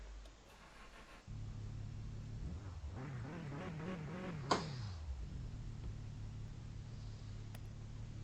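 A BMW engine in a car-restoration video game catches and settles into a low idle, swells through a rising rev with a sharp click, then drops back to a steady, quiet idle.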